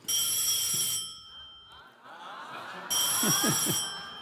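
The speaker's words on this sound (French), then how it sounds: "C'est le téléphone rouge du président." The president's red telephone rings on a French midday game show, two bursts of bright electronic trilling separated by a pause, loud and close, with brief voices and crowd murmur in the gap.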